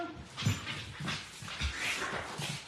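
A dog whimpers to be let outside, giving soft, close whines and small yips in uneven bursts, with faint panting between them and no talking over it.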